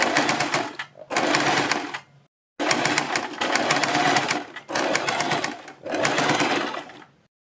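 A sewing machine stitches a neck design on a garment, running in five loud, close bursts of rapid whirring with short pauses between them.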